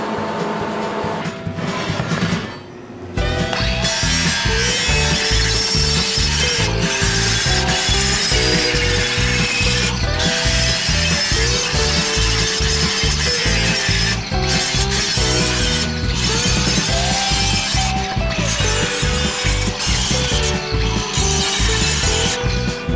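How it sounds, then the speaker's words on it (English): An angle grinder works over the edges of an automotive lower control arm, a loud continuous grinding whine with shifting pitch as the disc moves along the metal, after a brief pause near the start. "Next step is grind these edges."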